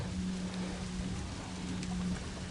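Rain falls steadily outdoors near a chicken coop, a continuous even hiss with a low steady hum running underneath, no voices.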